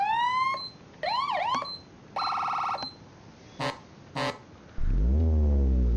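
A rapid run of electronic fire and rescue vehicle siren tones in a video game, wailing, yelping and warbling in short bursts, then a low, rising horn-like tone.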